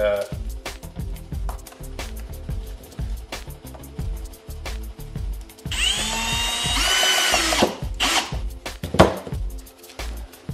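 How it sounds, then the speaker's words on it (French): Power drill driving a screw into metal in a garage during oil-cooler plumbing work, a close whirring run that rises and strains near the end, with someone talking throughout. "là, vous le vissez, puis là, quand vous le vissez, vous l'ajustez en le vissant."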